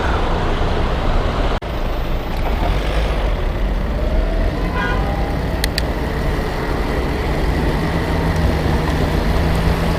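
A truck rumbles along under heavy, steady road and engine noise, with a sharp click early on and faint brake squeals and hisses as it slows.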